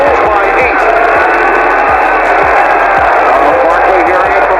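A packed arena crowd at Game 4 of the 1993 NBA Finals, Bulls against Suns, keeps up a loud, continuous roar at Charles Barkley. A regular thud of dribbling and a commentator's voice run underneath.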